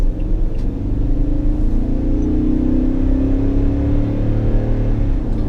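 A 2018 Toyota Tundra 1794 CrewMax pickup accelerating hard, its engine rumbling steadily and rising in pitch through the run, loud and close from inside the cab with no talk.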